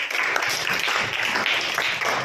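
Schoolchildren in a classroom clap together after a correct quiz answer, a dense, steady patter of many hands that stays loud throughout without a break.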